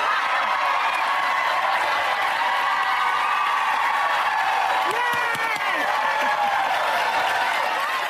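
A large crowd cheers and applauds loudly and continuously, with whoops rising above the steady roar of clapping, alone and without talk.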